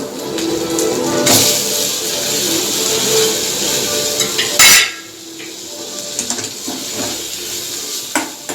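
Tomatoes and green chillies sautéing in a pan for vegetable kurma, with loud metal spoon scrapes and clanks against the pot over a soft sizzle, one sharp knock midway, no talk.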